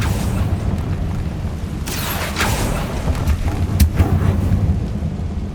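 The Confringo blast spell in Hogwarts Legacy sounds as a deep, rumbling booming roar that fills the whole stretch, with a few sharper cracks and bursts rising over the continuous low thunder-like rumble.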